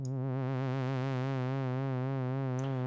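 A steady tone from the GForce Oberheim OB-X synth plugin whose pitch wobbles up and down in a slow, even LFO vibrato at 3.6 cycles per second, sustained and loud.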